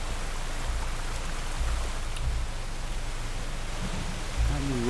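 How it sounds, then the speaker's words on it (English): A magical waterfall stream conjured by a druid spell in the fantasy game Pathfinder: Wrath of the Righteous pours as a dense, steady broadband rush, with a few low thumps near the end. "I created a waterfall."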